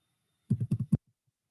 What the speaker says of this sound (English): start typing the name